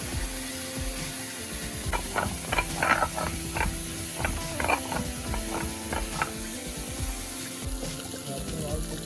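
Cumin being ground during Bengali chicken curry cooking, a rhythmic gritty scraping of a grinding stone in repeated strokes, fairly close, over a steady background hum.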